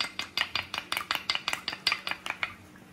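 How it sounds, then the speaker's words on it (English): A spoon stirs olive oil, tuna and egg together in a bowl, making a steady run of about fourteen quick, bright scraping clinks against the bowl, close and fairly even in rhythm, with no talking. "we added the olive oil, our tuna, and our egg. We are going to stir it."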